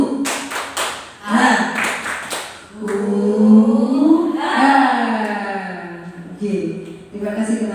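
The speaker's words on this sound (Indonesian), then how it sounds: "Tepuk semangat." A group of teachers or students claps in a rhythmic spirit clap, with quick bursts of claps mixed with loud chanted voices, close and energetic.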